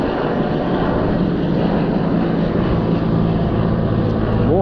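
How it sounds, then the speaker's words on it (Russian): A Mi helicopter passes overhead near an airport in Vietnam, its steady loud rotor and engine roar filling the whole stretch without a break. "Еще момент, третий вертолет."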